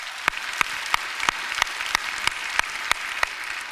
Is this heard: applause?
yes